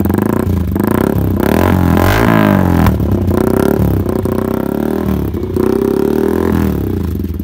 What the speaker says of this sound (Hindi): तो अभी साउंड चेकआउट करते हैं सबसे पहले हम फ्री फ्लो का।